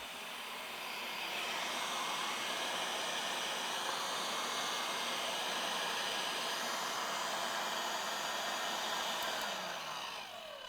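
An electric meat grinder runs on its third pass through venison mixed with pork fat, a steady, loud whirring drone that holds without break for about ten seconds, nearby and with no talking.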